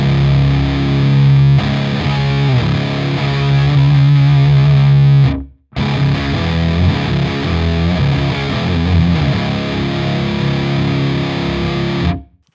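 Distorted electric guitar playing without an Octavia octave effect, thick sustained riffing with a heavy low note, breaking briefly to silence midway before resuming and stopping abruptly.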